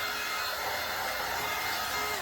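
A handheld dryer blows steadily on a chalk-painted background, giving a loud, continuous close-up whoosh with no pauses.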